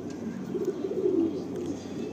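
A Madrasi pigeon coos softly, a low, murmuring call rising and falling for a couple of seconds, close by but faint, over a quiet room hum.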